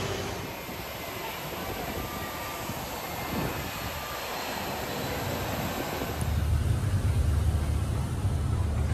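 Fiji Airways A330 jet engines at an airport, a steady broad roar with a thin high whine that grows slightly louder and deeper toward the end.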